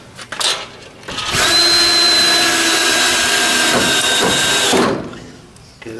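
A power drill drives 3.5-inch screws into a rear door under construction, whining loudly and steadily for about three seconds before spinning down, with some knocking just before it starts.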